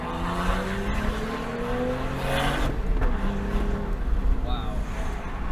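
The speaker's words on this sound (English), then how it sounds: "Okay, we're gonna do a second gear pull." A BMW 435i xDrive accelerates hard through a second-gear pull, its engine note climbing steadily in pitch, with a shift partway through, under occasional talk from inside the cabin.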